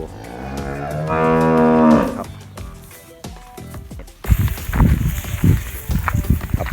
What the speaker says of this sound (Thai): มีวัวให้ดู